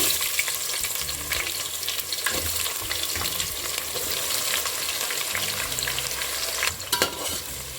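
Onions sizzle and fry on a high flame in a pan for a chicken curry, a steady crackling hiss with occasional stirring scrapes, close and continuous.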